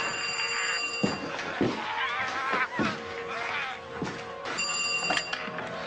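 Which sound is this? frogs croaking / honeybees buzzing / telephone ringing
telephone ringing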